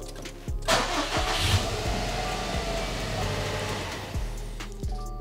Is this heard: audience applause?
no